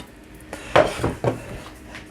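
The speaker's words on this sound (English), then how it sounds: "So potatoes are cooked," Cooked potatoes being drained in a metal pan, with a few clanks of the pan and utensils against each other, close and fairly quiet with a soft background.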